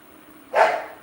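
A single dachshund bark, one short sharp yap rising midway out of quiet kitchen background, fairly close and alone with no talking.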